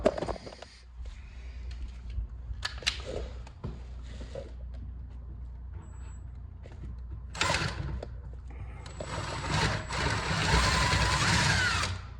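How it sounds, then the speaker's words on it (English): A power drill whirs in a couple of short bursts and then runs for a longer stretch, pre-drilling into the corner of a wooden kitchen shelf, with quieter handling noises between. "I need to pre-drill so that I don't crack this."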